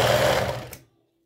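A domestic sewing machine stitches lace for a bra in a fast, steady whir close by for most of the second, then stops abruptly into silence.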